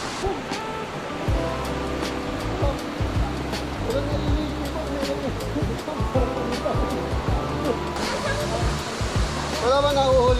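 The waterfall at Blue Water Falls gives a constant broadband rush of falling water, near and loud, while people talk and exclaim over it at times.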